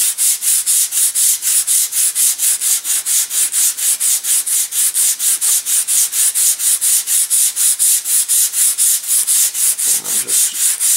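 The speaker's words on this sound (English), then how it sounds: "I'm just riding the sanding block across the top." A sanding block rides lightly over a wooden model propeller blade for a pennyplane, making a steady run of rhythmic back-and-forth rasping strokes, loud and close, with a brief low thump near the end.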